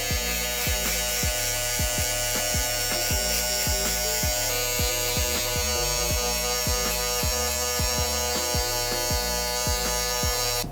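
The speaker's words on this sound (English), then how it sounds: "I like setting my guideline with my Saber trimmer by a Gamma and Style Craft" A Gamma+ and StyleCraft Saber hair trimmer buzzes steadily and close during a barber's fade haircut, a constant electric hum with a rapid regular tapping pulse running through it.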